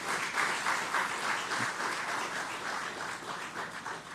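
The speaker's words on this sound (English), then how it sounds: "Let's give them a round of applause." A crowd applauds steadily at a public ceremony in South Trinidad, a dense, even wash of many hands clapping that holds at a fairly constant level throughout, with no voices standing out.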